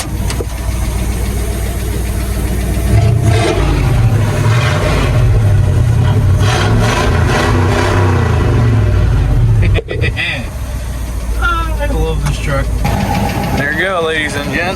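A neglected old Ford F-250 pickup with a straight-pipe exhaust, the engine idling, then revving in a loud surge with deep low rumble, then dropping back to idle as people talk over it.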